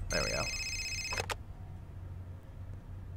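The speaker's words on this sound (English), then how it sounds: "Oh, maybe that's the phone call from Garrett." A telephone rings once in the Fahrenheit (Indigo Prophecy) video game, a short electronic trill lasting about a second, followed by a quieter low room hum, with a voice speaking briefly.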